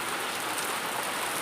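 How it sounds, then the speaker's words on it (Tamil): Heavy rain pours steadily after several days of hot sun, a dense, even hiss of drops drumming on surfaces, close and constant throughout with no voices. "எவ்வளோ நாளே ஆச்சு இப்படி மழை பெஞ்சு. இன்றைக்கி தான் பெருசாக பெய்யுது."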